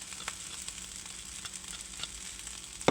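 Fried rice with flaked egg sizzles steadily in a pan, a quiet continuous crackle with a few small pops and a sharper clink of a utensil at the end, no one speaking.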